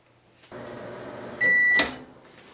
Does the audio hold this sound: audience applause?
no